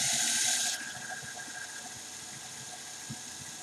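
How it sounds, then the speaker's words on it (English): LEGO Technic 6x6 chassis with portal axles, its motor driving all six wheels forward, giving a steady close mechanical whir with a brighter burst at the start that settles into a continuous hum. "so now if I turn it on, I'll show you this here, all the wheels turning"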